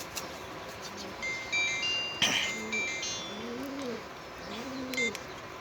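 Low soft coos from a male pigeon in a loft roll in repeated phrases, faint and close, over a hissy background with scattered high chirps from other birds.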